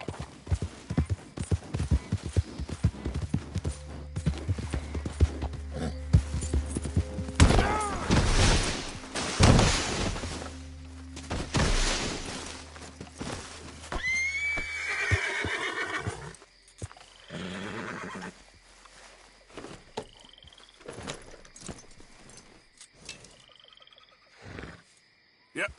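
A horse in Red Dead Redemption 2 spurred into a gallop, heavy drumming hoofbeats with a loud whinny and snorting, then the hooves fade as quieter ambience and a few distant calls take over.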